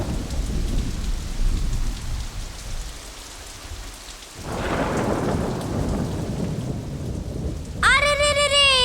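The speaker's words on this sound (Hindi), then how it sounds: "अरे ये बारिश रुक जाओ ना" Heavy rain pours steadily in a thunderstorm while deep thunder rumbles and rolls loudly, fading briefly before a fresh crash and continued downpour, ending with a bright musical tone.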